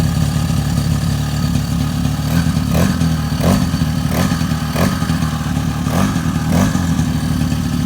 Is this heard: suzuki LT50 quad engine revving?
yes